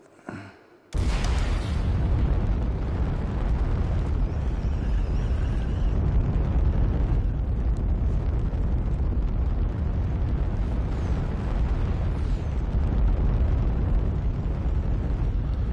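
A rocket-powered glider's rocket ignites in the VR flight game UltraWings with a sudden loud blast, then a continuous roaring, rumbling thrust that holds steady for many seconds.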